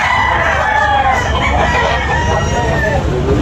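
A rooster crows loudly and close by in a long, wavering call at a market in Tabunok, Talisay, Cebu, with other fowl clucking in the background.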